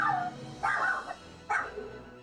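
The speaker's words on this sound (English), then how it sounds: "I hear a doggo." Small dog yipping and barking in a few short bursts at moderate distance indoors, with a quiet room tone between calls.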